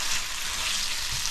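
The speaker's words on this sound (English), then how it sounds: "Add a little bit of liquid." Goat curry sizzles and fries steadily in a pan as a little liquid goes in, a dense, even hiss held close and loud throughout with no talk over it.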